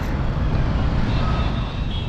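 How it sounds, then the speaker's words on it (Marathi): Delhi road traffic rumbles as a steady, dense roar of passing vehicles, a continuous wash of engine and tyre noise with no break across the whole stretch. "दिल्लीचा ट्रॅफिक आहे"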